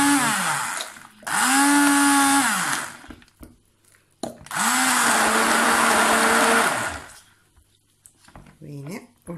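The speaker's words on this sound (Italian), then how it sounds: "Gli metto una prima cucchiaiata e inizio a frullare" Blender whirring through a chestnut mixture in two long bursts that rev up and wind down, loud and close, with a brief gap between runs and quieter handling sounds at the end.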